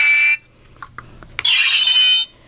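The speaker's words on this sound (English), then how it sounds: "So it makes kind of this metallic kind of sword-like sound, rather than, like a lightsaber-y sound." A cheap red light-up ninja sword toy gives off bright electronic, metallic slicing effects in two short loud bursts: a brief one at the start and a longer one near the end, with quiet between them.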